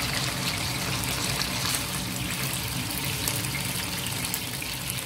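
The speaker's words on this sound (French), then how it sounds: "Je vais tremper mes viandes comme ceci." Meat is dipped in water, giving a continuous soft splashing and trickling sound nearby with no talk.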